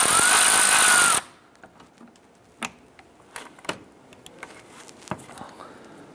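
A power tool with an extension whirs loudly for about a second on the lower 10mm bolt of the windshield washer reservoir in a 2011–2018 Ram 1500, then stops, followed by scattered metallic clicks and taps.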